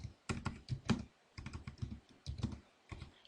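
Quick bursts of close, crisp clicking from a computer keyboard as a short word is typed, with irregular pauses between the clusters of keystrokes.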